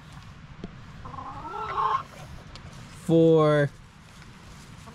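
Chickens in a backyard coop give a few clucks and a loud, short squawk, heard close up amid a person's talk and handling sounds.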